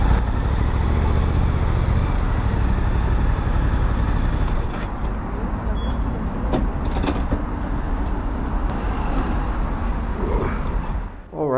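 A Suzuki GSX-8R motorcycle ride, steady engine and road noise held loud and close throughout, with wind rush and a brief tail-off at the very end.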